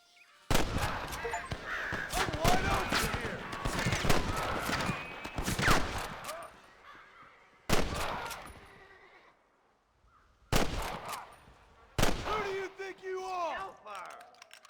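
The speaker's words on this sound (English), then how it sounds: "I think we just start shooting" Gunfire in a Red Dead Redemption shootout, sharp loud shots in rapid bursts separated by brief pauses, with crows cawing and a horse whinnying nearby.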